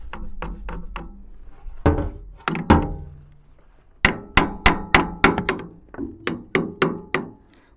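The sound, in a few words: hammer tapping metal pin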